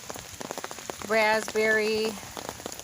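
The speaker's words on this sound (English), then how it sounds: "It's just been raining every single day, so it's hard to come out here" Steady light rain patters on plants and soil in a backyard vegetable garden, a soft, even hiss with scattered drips throughout while someone briefly speaks close by.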